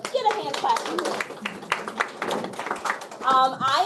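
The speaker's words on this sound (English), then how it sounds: "we can get a hand clap for this" Hand clapping from a small in-person audience at a nutrition security meeting, brisk and fairly close, mixed with cheering voices and some chatter that rises near the end.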